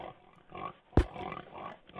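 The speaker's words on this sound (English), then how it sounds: "Look at those pigs!" Pigs in a video game give a single short, loud grunt over a quieter backdrop of snuffling and low game ambience.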